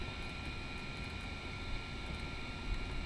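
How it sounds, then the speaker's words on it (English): A Castle 2650 electric motor in an HPI WR8 Ken Block 4S rally RC car gives a steady, sustained high whine over a broad rushing noise, holding an even pitch and level throughout. "2650 Castle motor."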